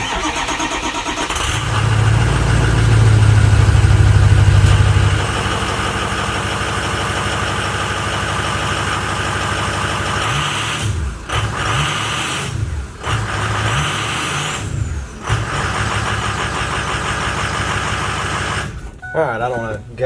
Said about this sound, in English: Let's drop it on the ground, see what it sounds like with just coming out of the muffler.